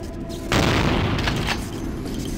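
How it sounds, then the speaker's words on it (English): Heavy shotgun blast in the video game Vampire the Masquerade, a loud booming burst that hits suddenly and rolls into a rumbling, noisy tail. "Oh, shotgun's probably not the best distance weapon."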